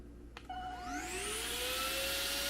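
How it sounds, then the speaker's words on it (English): A small handheld vacuum cleaner switches on and runs with a high, rising whine that settles into a steady, close-up whir. "It's a vacuum cleaner, a little handheld one."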